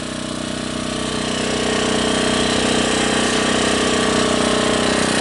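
An Iron Ton budget generator engine runs steadily in cold weather, a loud continuous mechanical drone with a rattling, jackhammer-like pulse that holds even throughout.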